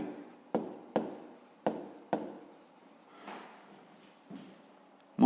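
Pen strokes scratching on paper while writing numbers in a fifth-grade math exercise, a series of short separate scribbles close up with pauses between them.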